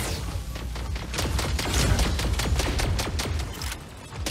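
Rapid mech weapon fire in the video game Mech Arena, a dense volley of repeated shots that rises and holds for several seconds before easing off, with no talk.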